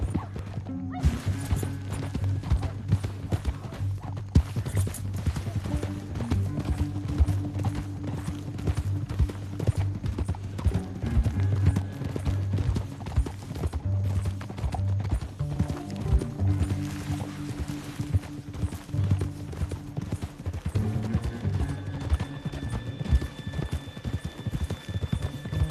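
Horse hooves in Red Dead Redemption 2 clop steadily in a quick, continuous rhythm over a low droning background, with occasional thuds, lasting the whole stretch.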